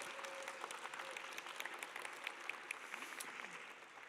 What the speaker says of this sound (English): let's give them applause for the ways they support you.